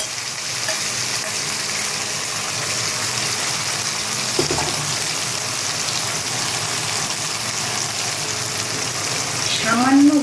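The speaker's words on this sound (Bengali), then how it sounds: "এবার আমি তেলের মধ্যে দিয়ে দেব পটল বেটে রাখা পটলটা" Ground pointed gourd (patol) paste frying in hot oil, a steady close sizzle and hiss throughout with a brief scrape partway and a louder rush at the end.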